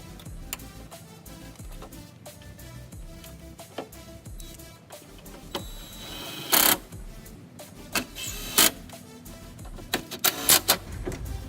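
Screws are driven back in to fasten the front grille of a Holden Commodore VX, heard as a run of quick, close ticking and ratcheting clicks with a few sharper knocks near the end.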